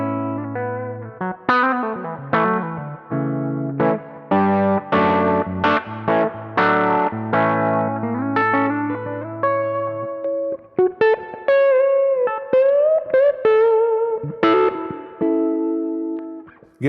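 Electric guitar played through a Milkman The Amp 50 with a Rat clone distortion pedal: a run of plucked notes and chords with fuzzy sustain, loud and close, ending in bent lead lines with no voices.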